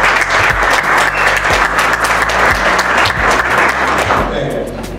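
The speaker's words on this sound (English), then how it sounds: "Everybody give themselves a round of applause for showing up." Sustained applause from the audience at the 2013 Black Male Leadership Conference at the Carr Center in downtown Detroit, a dense steady clapping that fills the hall for the full stretch and thins slightly at the end.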